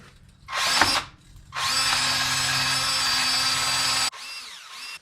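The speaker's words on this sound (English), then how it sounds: "I'll just take the wire wheel" A power drill with a wire wheel cleans the strut mount area on a Mercedes W124 front suspension. A short first burst is followed by a longer steady whining, scraping run and a brief final spin-up, loud and close, without speech.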